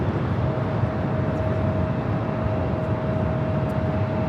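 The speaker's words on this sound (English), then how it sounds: "A&A Dreamliner crossing over 24 left" Boeing 787 Dreamliner airliner passing over runway 24 left at Los Angeles International Airport, a steady, loud broadband jet roar with a constant whine running through it, continuous for the whole stretch with no voices.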